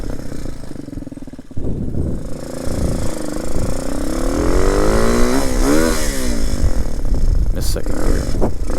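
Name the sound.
RPS Hawk 250 motorcycle engine revving through gears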